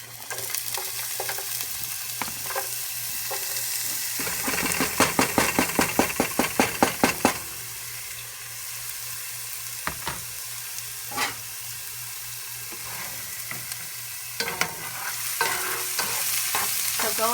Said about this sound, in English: So all at once I'm going to put the aromatics, the onion, the ginger, and the garlic.